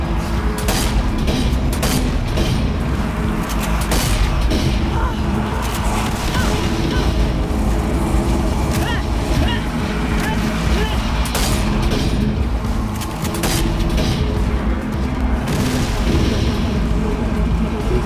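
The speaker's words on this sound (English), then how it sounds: "I'm gonna throw a grenade on these bitches." Explosions and heavy gunfire from the zombie shooter Zombie Army 4: Dead War, a dense, loud, continuous barrage of booms and shots throughout, with a player's voice talking over parts of it.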